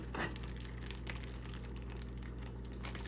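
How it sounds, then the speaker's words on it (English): A plastic bag crinkles and crumples steadily as chicken pieces are massaged inside it, a quiet, continuous rustle heard close up with no talking. "you just want to give them a good massage in the plastic bag"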